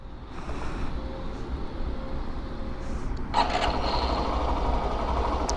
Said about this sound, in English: let me turn on the engine